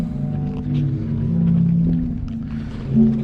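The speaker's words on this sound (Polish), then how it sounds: "Fale, fale morza powodują wydobywanie się dźwięków." The Zadar sea organ in Croatia, played by waves through slots in the stone, gives low, moaning organ-like tones that swell and fade irregularly, with soft watery noise underneath and no voices.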